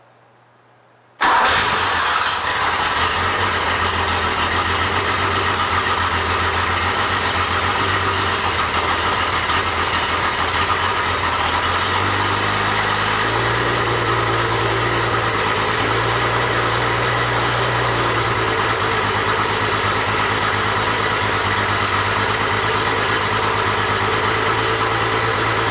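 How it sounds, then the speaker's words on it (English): A Porsche 911 engine fitted with a Motec ECU cranks briefly, catches and settles into a steady, loud idle that holds throughout, its low rumble shifting slightly partway through, with no talking. "We're going to go ahead and put the relays back in on this engine and see if it'll fire up."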